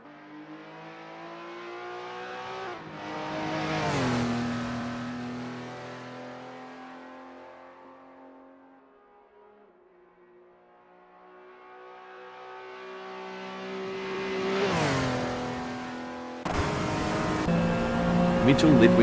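A Le Mans race car from the 1998-1999 era, on an out lap in Assetto Corsa, roars close with its engine climbing through gears, fading as it recedes, then revving back up, with a louder burst at the end.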